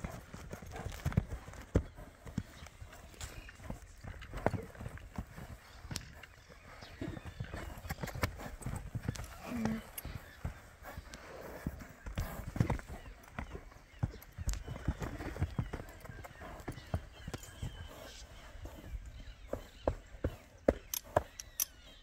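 Horse hooves clip-clop in an uneven rhythm on hard ground on a rural property, with faint voices in the background.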